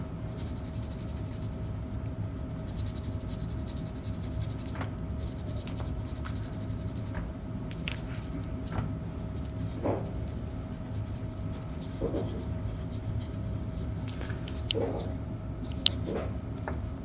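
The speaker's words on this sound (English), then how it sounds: "dip your sanding paper in the water. It's nice and wet now, and just sand like you normally would." Resin is wet-sanded by hand with soaked sandpaper, a faint continuous scratchy rubbing of repeated strokes over a low steady background hum, close to the microphone.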